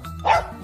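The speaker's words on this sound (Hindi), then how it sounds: "वहाँ पर डॉग्स यानी कुत्ते" A dog gives a single short, loud bark close by, a brief sharp yelp in a children's story about domestic farm animals.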